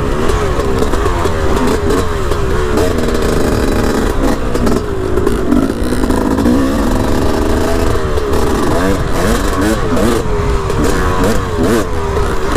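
A dirt bike engine revs loudly and continuously, rising and falling in pitch as the rider works through powdery mountain trails, close and dominant throughout with no talk.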